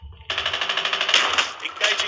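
Rapid automatic gunfire from the mobile shooter Call of Duty Mobile during a zombie mode, a steady loud burst of rattling shots running about two seconds with barely any pause.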